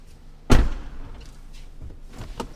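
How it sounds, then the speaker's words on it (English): A single solid thunk of a Tesla Model S door shutting, followed by quieter rustles and small knocks nearby. "we gotta open the door still"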